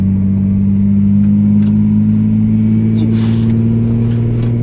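A Datsun 280Z engine runs loud and close in a steady, sustained drone, the revs holding with slight rise and fall and a few faint clicks and knocks over the top.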